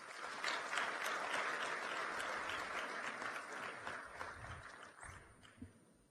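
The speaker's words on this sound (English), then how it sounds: "let us once again give a warm round of applause to our distinguished speakers this morning" An audience at a business forum in Kigali gives speakers a warm round of applause, dense clapping that holds steady and then thins out and fades toward the end.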